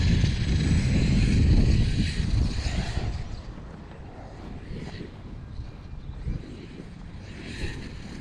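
Traxxas X-Maxx RC monster truck at half throttle, its motor whining loudly at first and then dropping to a lower, rougher drone with wind rush and bumps.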